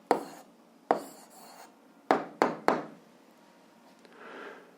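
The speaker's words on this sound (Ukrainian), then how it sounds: "пишемо відповідь" A pen scratches out an answer to a 7th-grade algebra exercise, giving several short bursts of close scribbling strokes separated by quiet gaps, with no talking.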